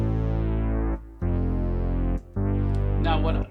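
EX7 keyboard synthesizer playing its Fat Octave bass patch, three sustained, harmonically rich notes with short gaps between them, loud and close with no talk.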